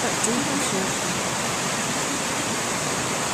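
A river swollen by melting snow in February pours past in a constant broadband rush of water, near and steady, with faint traces of a voice beneath it.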